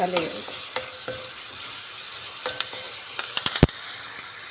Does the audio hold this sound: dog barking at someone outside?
no